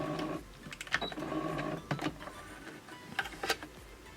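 A sewing machine stitches a back tack on fabric, running forward and reversing in short bursts of rapid mechanical clatter with brief pauses, close and fairly quiet.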